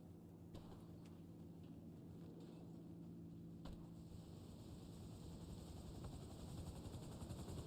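A helicopter in GTA Online drones steadily with a low rotor rumble, holding constant and fairly faint with no talk over it, and swelling slightly toward the end.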